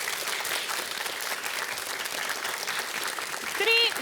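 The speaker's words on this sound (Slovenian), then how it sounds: "To si jim pa zasluži en aplavz." An audience applauds a quiz team in a game show, a steady dense clapping throughout, with a brief voice cutting in near the end.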